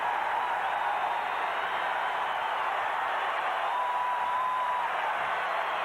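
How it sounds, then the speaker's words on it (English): A basketball arena crowd at the 1992 Tournament of the Americas Dream Team vs Cuba game, a steady roar of cheering and applause at an even level throughout, without clear separate voices. "That gets the crowd going"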